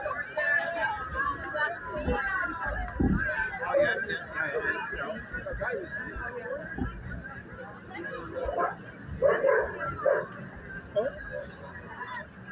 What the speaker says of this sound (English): Some doggies saying hello.